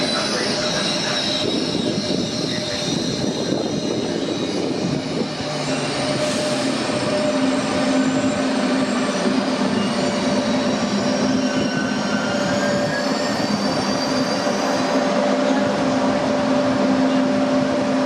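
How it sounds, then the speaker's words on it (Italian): A Trenitalia regional train pulls out from a station platform, a steady loud rolling rumble with high, sustained wheel squeal running through it from start to finish. "Il treno regionale 2358 Trenitalia delle ore 19:40 per Rimini e in partenza dal binario"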